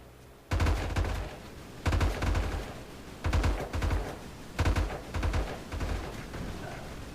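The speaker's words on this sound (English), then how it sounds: "That's just a lot of shotguns." Many shotguns firing in the game M.A.V., heavy booming volleys in several bursts with brief lulls between them, loud and close with no talking.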